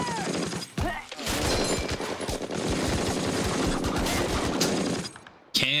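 Dense war-drama gunfire from Band of Brothers, rapid machine-gun bursts and rifle shots sustained for several seconds, loud and continuous, ending abruptly before a final burst.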